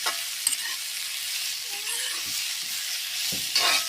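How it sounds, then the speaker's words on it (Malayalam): Four thinly sliced onions fry in a pan for a chicken dish while being stirred, a continuous close sizzle broken by a few sharp scraping knocks of the spoon. "കനം കുറച്ചരിഞ്ഞ സവാളയാണ് എന്നാലേ പെട്ടെന്ന് മൂത്ത് കിട്ടത്തുള്ളൂ നാല് സവാളയാണ് എടുത്തേക്കുന്നത് നല്ലപോലെ ഇളക്കി കൊടുക്കാം"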